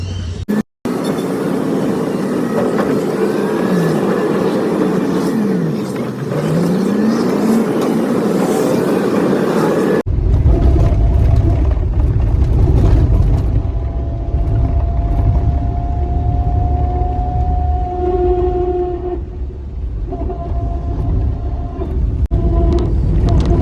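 A Maruti Eeco van drives along a road carrying a group of seven, giving a continuous loud engine and road rumble. A change in tone midway brings a steady droning whine.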